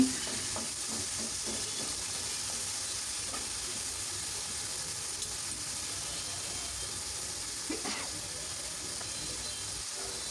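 Thinly sliced snake gourd frying with onion and chili in a pan, a steady low sizzle with soft stirring clicks and scrapes near the start and again around the middle, with a faint voice in the background.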